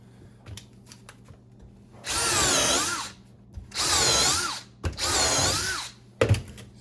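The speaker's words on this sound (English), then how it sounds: "we're just going to drill a hole and put some screws in the side." Power drill drives screws into the side of a wooden kids' model train table, three loud whirring bursts of about a second each with pitch sweeps, separated by quiet pauses and small knocks.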